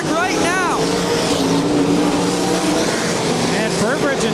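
Winged sprint cars race at Ohsweken Speedway in an A-Main, engines roaring loud and continuous as several cars bunch up and pass close, while commentators talk over the racket.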